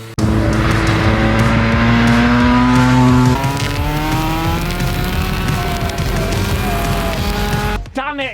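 A high-revving engine on the world's fastest go-kart screams loud and close, its pitch climbing through gear changes with tire squeal, while excited voices shout over the racing noise.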